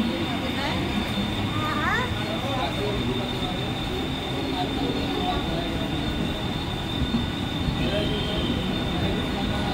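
A Mumbai slow local train bound for Chhatrapati Shivaji Maharaj Terminus rumbles steadily into platform 2 at Diva Junction, wheels squealing now and then amid continuous mechanical noise.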